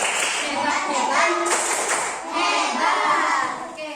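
A class of children performs the rhythmic 'tepuk hebat' clapping routine during a classroom teaching-practice session, a steady, fairly loud run of claps lasting the whole stretch with children's voices chanting along over it.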